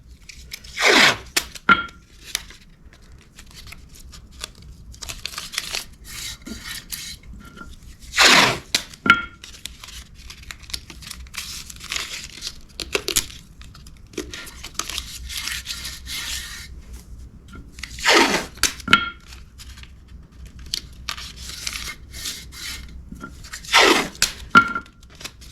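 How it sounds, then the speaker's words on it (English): Blue masking tape is pulled off the roll and pressed along a wheel lip, with repeated sharp ripping tears every few seconds between softer rubbing and smoothing, close up and without speech. "Now, we're going to blue tape the rest of the lip here."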